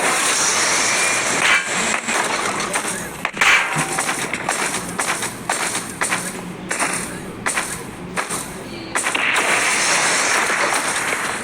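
Loud, continuous video game helicopter engine roar with a whooshing rotor wash, fluctuating slightly and punctuated by a few sharp thuds.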